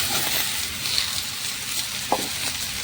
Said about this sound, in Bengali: লাউ আর পেঁপে দিয়ে হালকা একটু নাড়াচাড়া করে নিচ্ছি